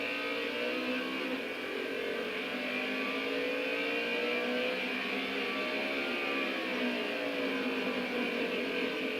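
Modified race cars roar around a racetrack in a continuous loud, layered engine drone that rises and falls slightly in pitch as they accelerate through the laps, with no voices.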